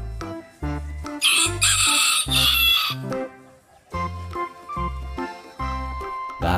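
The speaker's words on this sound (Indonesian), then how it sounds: "ada ayam jantan." A rooster crows and clucks over a bright, steady musical backing, the calls rising loud in the middle and repeating in short bursts before fading back beneath the rhythmic beat.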